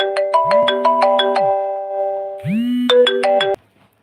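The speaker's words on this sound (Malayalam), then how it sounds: "ഒരു കോൾ വന്നു അതാണ് ഞാൻ പോയത്" A mobile phone ringtone for an incoming call plays a bright, chiming melodic tune of quick repeated tones, loud and clear, in two phrases with a short gap, then stops abruptly.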